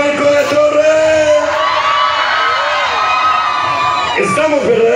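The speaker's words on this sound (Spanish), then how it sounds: "¿cómo grita la gente de Zacualco de Torres?" A crowd shouts, whoops and cheers loudly and continuously at a banda music event in Zacoalco de Torres, Jalisco, a dense roar with children's shouts rising through it.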